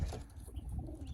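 Soft, low cooing from racing pigeons, a brief murmur of a few throaty coos close by with faint background rustle.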